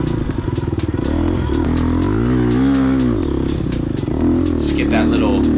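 A GasGas EX250F dirt bike races through a hare scramble course, its engine close and loud, revving up and down in sweeping pitch changes with rattling clatter from the terrain.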